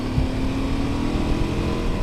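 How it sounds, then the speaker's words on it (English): A 2018 Suzuki V-Strom 1000XT motorcycle with its big 1000cc engine revving, a steady loud, deep rumbling drone that carries throughout, with no voices present. "you can really hear the grunt of this big 1000"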